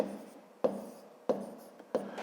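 Writing numbers by hand for a fifth-grade maths exercise: three quick, crisp tapping strokes spaced evenly about two-thirds of a second apart, close and clear with no talk.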